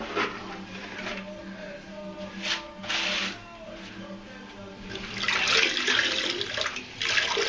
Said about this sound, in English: So ready for rinsing. Your sponge nice and wet.